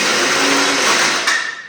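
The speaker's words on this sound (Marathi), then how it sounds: "पक्या अशा प्रकारे मसाले काढून घ्यायला सगळे मिक्सर मधनं" A kitchen mixer grinder grinds masala for mutton curry with a loud, continuous high-pitched whir that tapers slightly as it winds down at the end.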